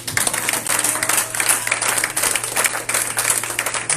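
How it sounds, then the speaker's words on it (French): A church congregation applauding during a Sunday service, dense continuous clapping from many hands, loud and close, with a low steady hum beneath it. "Quelqu'un peut acclamer le Seigneur ce matin"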